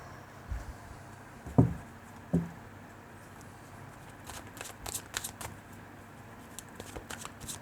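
Tarot cards being shuffled by hand: two sharp riffling bursts near the start, then a run of lighter card flicks and taps, close and fairly quiet, with no talking.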